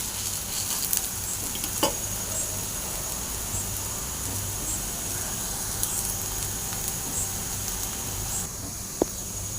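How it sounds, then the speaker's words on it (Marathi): Thalipeeth flatbread fries in oil on a hot pan, giving a steady, close sizzle that runs the whole time, with a few faint clinks and taps over it. "आपण थालीपीठ पलटी करून घेऊया. वरूनही थोडंसं तेल लावून घेऊया."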